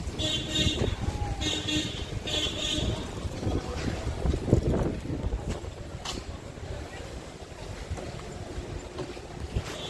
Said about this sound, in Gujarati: બધી ચારે બાજુ નકરી ધૂળ ઉડે છે ને ડમરીને પવન.